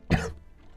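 A single close, harsh cough bursts out and fades within a fraction of a second, followed by quiet room noise.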